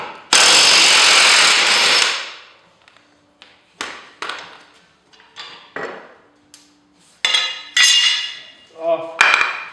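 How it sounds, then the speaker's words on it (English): Metal wrench clanks and ratcheting scrapes against the blade nut of a John Deere 100 series riding mower, a long harsh burst at first, then a series of short separate metallic knocks and clinks. "And you can put your wrench on here and twist on that."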